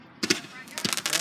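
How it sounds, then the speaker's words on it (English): Fireworks go off outdoors in a quick series of sharp cracking pops, fairly near, with a short quiet gap between bursts. "So fireworks are going off, so I'm gonna start filming the fireworks, okay?"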